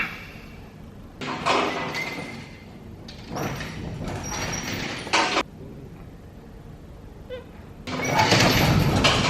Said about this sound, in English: I'm gonna open up this roller door, get some light in here